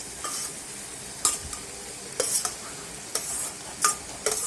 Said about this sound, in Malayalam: എന്നിട്ട് നല്ലോണം മിക്സാക്കി എടുക്കാം.